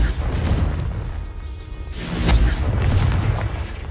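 A Confringo fire spell explodes in Hogwarts Legacy with loud booming blasts and whooshes, one burst early and a heavier boom midway, layered over game background sound.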